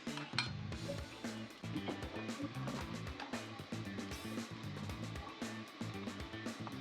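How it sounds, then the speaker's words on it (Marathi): Cooked prawns are scooped and moved into a pot in a home kitchen. Soft metallic clinks and scraping taps repeat close by over a low gas burner hum, quiet and without speech. "कोलंबी त्याच भांड्यात आपण काढून घेतोय."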